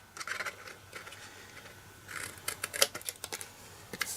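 Scissors cutting a square out of cardstock, a series of crisp snips in short irregular bursts, close and clear with no speech over them.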